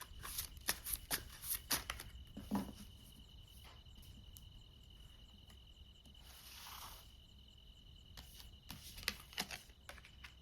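Tarot cards are shuffled and drawn in quick, crisp riffles and flicks, close and fairly quiet, coming in short bursts separated by near silence against a faint steady background hum.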